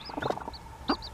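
Baby chicks, including a young Silkie, give a few short, high cheeps and soft clucks close by in a quiet setting.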